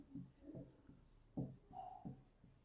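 A pen or pencil writes on paper while a math problem is worked out, giving soft scratchy strokes in short bursts with pauses between them, close and quiet.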